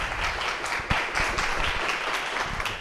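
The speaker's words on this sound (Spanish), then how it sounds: "Así que les pido un aplauso," An audience at a talk welcomes architect Sebastián Bravo with applause, a moderate, steady patter of claps with a few sharper individual hits standing out.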